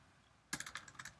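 A short MATLAB command is typed on a computer keyboard: after half a second of quiet, a crisp burst of about eight close, evenly spaced key clicks, with no talking.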